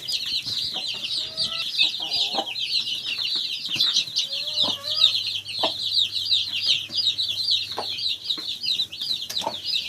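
Several bantam chickens cluck and chatter close by in a Ukrainian village, soft repeated clucks and brief squawks over a constant high chorus of chirping birds.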